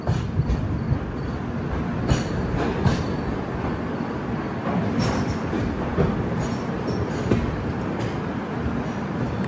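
The 12426 Rajdhani Express from Jammu Tawi to New Delhi rumbles at Pathankot railway station, with a loud, steady rolling roar of wagons, rhythmic wheel clacks and occasional squeals, without voices.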